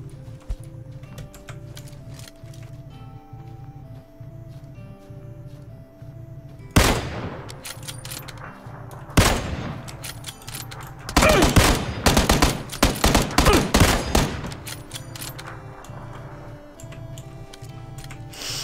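Heavy, slow-firing shotgun blasts in PlayerUnknown's Battlegrounds, a few spaced booming shots and then a rapid cluster, over a quiet ticking background.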